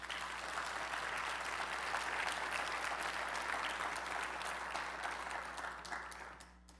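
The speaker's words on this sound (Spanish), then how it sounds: "Dele un aplauso a Jesús." A church congregation applauds in a dense, sustained wave of clapping heard from a distance, with a low steady hum underneath, fading out at the end.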